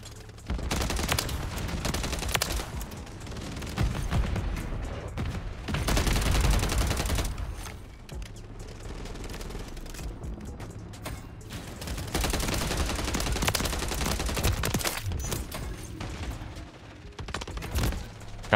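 Sustained automatic gunfire in Call of Duty: Modern Warfare III, aimed at a VTOL aircraft: dense bursts of rapid shots with brief pauses and a few heavy booms, loud and close throughout.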